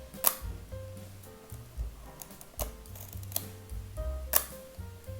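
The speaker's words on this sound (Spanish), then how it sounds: "escuchad el obturador, por favor" A Leica M6 film camera shutter fires in a series of crisp mechanical clicks, each with a short whirring wind-through, repeated several times up close with no talking.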